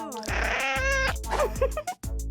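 A cartoonish cat meows in a video game about cat detectives, a few bright, tonal mews over steady game music and low rhythmic beats.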